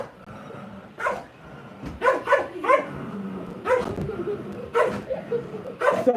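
A playful dog lets out a string of short sharp barks and yips in irregular bursts, close and loud indoors, with whimpers and scuffling between them.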